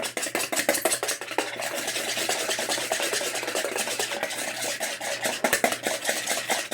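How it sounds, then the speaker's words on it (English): A wire whisk beats egg white liquid until frothy in a bowl, giving a quick, steady run of close, light metallic clicks and swishing scrapes. "you want to take a wire whisk and you want to whisk this liquid till it's frothy"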